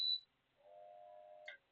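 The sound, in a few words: electronic beep of an appliance being switched on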